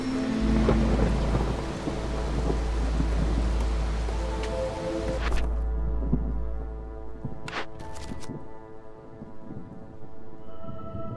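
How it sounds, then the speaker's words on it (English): A storm in the video game Against the Storm: a steady roar of heavy rain under low, rolling thunder and a faint, haunting harp-like melody, which fades to quieter rain with a few sharp cracks near the end. "when the storm hits, you get this slightly haunting, what sounds like harp piece that transitions into a bit darker melody"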